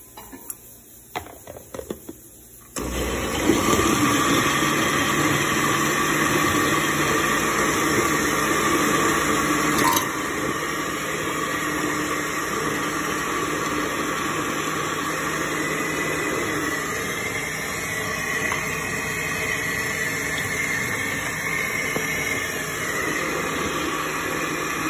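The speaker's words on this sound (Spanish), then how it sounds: "Y vamos a licuar todo esto." A kitchen blender blends condensed milk, vanilla essence and oats. After a few clicks it starts with a jolt, then runs as a loud, steady whir for over twenty seconds, easing slightly partway through.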